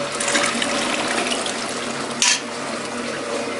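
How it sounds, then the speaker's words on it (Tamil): Sambar poured from a vessel in an Iyer-style tiffin kitchen, a steady broadband liquid pouring sound that runs continuously with a brief splashy burst near the end, with no talk over it. "சாம்பார் ஊற்றுவோம்."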